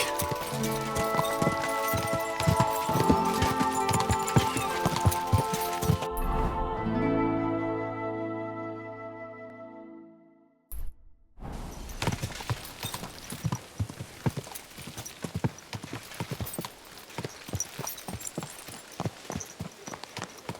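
Horse hooves in Kingdom Come: Deliverance 2 clip-clop in quick repeated beats. Midway they drop out for a held tonal passage and a brief silence, then the hoofbeats pick up again at a brisk pace.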